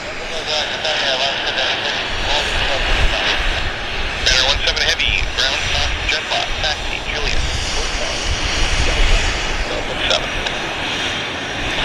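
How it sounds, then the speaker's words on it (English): Heavy aircraft departing Vancouver Airport, a continuous broad engine roar that holds steady at close-to-moderate distance, with brief hiss bursts over it; voices talk faintly underneath. "we've got a lot of activity here. It's just gangbusters, chock-a-block, one aircraft after another."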